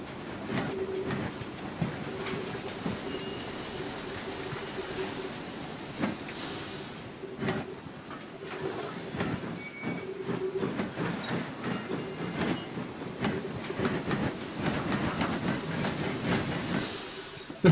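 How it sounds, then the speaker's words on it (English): Safety valves lift on a Class 2F Dock Tank steam locomotive on the Falmouth Branch in Train Simulator 2015, giving a steady, loud hiss of escaping steam with faint mechanical clanks and no talking. "Safeties are lifting"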